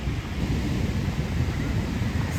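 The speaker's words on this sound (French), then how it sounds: "La taille des vagues SVP." Large ocean surf at Hossegor beach roars as a continuous, heavy rumbling wash mixed with wind buffeting the microphone, no voices over it.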